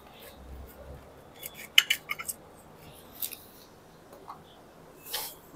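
A knife slicing through a Masui Dauphine fig, a few quick crisp cuts and taps on a board in a quiet room, close and fairly faint, with no talking.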